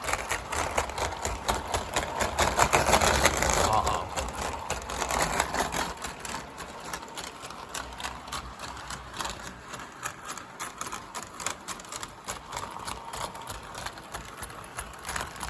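O gauge model locomotive straining at full throttle under a heavy load, giving a steady mechanical whir with rapid rhythmic clicking and a high whine, louder in the first few seconds then settling into a constant hum.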